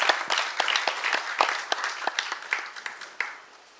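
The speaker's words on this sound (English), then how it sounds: "Please give them a big round of applause." Audience applause at the opening ceremony of a world communication congress in Seoul, a dense burst of many hands clapping with sharp individual claps standing out, steady and fairly close before fading slightly at the end.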